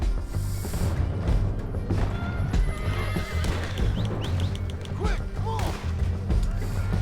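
A mare in Red Dead Redemption 2, loud close neighing and whinnying with clip-clopping hooves and a dense layer of game sound, with a voice briefly underneath.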